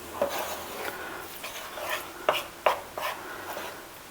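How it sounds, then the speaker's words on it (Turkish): Peppers and vegetables being stirred in a pan, a utensil scraping and knocking against the metal in a handful of sharp, irregular clicks over a soft background, with no talking. "Böyle karıştırıyorum."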